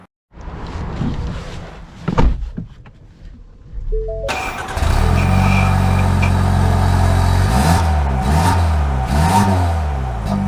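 A 2023 Ford Escape ST-Line with the turbocharged 2.0-litre engine starts up close by, then pulls away and accelerates, its engine note climbing steadily through rising revs. No one speaks over the engine.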